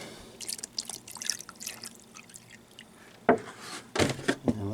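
Distilled water poured into an ultrasonic cleaner holding small parts: quiet trickling and dripping, followed by a few sharper splashes near the end.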